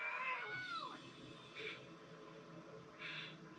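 A cat meows close by, a falling, drawn-out cry, followed by softer, brief sounds at an even spacing, over low room noise.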